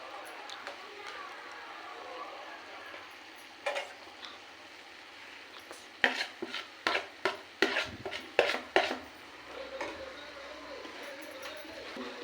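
Okra curry being stirred in a pan, with a low background sizzle and a burst of sharp spatula scrapes and knocks against the pan in the second half.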